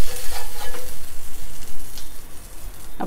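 Homemade white butter hitting a preheated tawa for a veg tawa pizza, giving a loud, close sizzle that pulses and then settles into a steady frying hiss.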